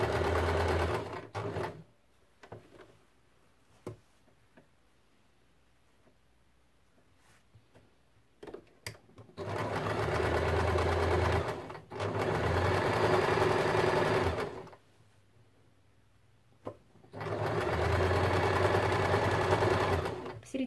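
Sewing machine stitching fabric for a padded crib bumper with ruffles and tufting, running in three sustained bursts of several seconds each, separated by quiet pauses with small handling clicks and thumps.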